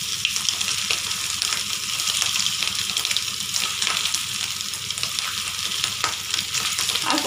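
Fish egg koftas sizzle in hot oil in a wok over a low flame, a steady dense frying hiss that runs unbroken and close throughout.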